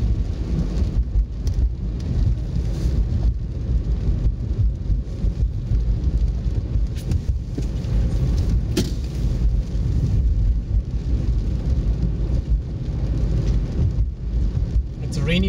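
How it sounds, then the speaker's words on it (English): Heavy rain drums steadily on a car during a drive, with a dense continuous wash and low rumble throughout, loud and close, with no voices. "It's rainy weather today,"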